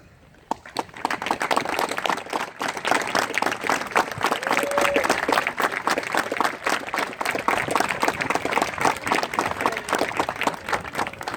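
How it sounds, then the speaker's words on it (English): At an opening day ballpark ceremony, a crowd applauds veterans and service members, starting faintly and swelling into steady, loud, distant clapping that carries on for about ten seconds with some crowd noise beneath. "raise your hats high so we may applaud and thank you for your service"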